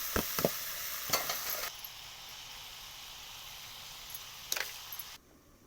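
Shredded potato and leafy greens frying in a pan give a low, steady sizzle, broken by a few sharp stirring scrapes and clinks near the start and again toward the end, with no talk.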